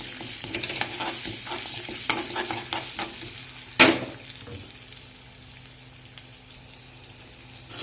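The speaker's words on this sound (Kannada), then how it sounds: "ಇದು ಒಗ್ಗರಣೆ ಆಗಲಿ." A tempering of chana dal, hing, curry leaves and chopped green chillies frying in oil, with scattered crackles and spoon clinks, one sharp clatter midway, then a softer, fading sizzle.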